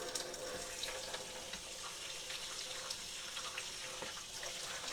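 Tap water runs steadily over a can of evaporated milk as it is rinsed in a kitchen sink, a continuous close splashing hiss with small irregular spatters throughout.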